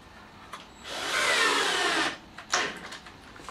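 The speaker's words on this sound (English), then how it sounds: "I'm going to go ahead and screw this little bracket on here" A power tool drives a screw into a small bracket on a woodworking jig for a lift lid box, one steady whirring burst of about a second near the mic, followed by a short second spurt.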